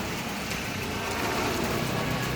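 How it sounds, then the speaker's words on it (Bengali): Heavy rain pours steadily as a dense, loud, continuous hiss on surfaces, with no voices heard. "দেখুন কেমন বৃষ্টি হচ্ছে প্রচুর বৃষ্টি হচ্ছে"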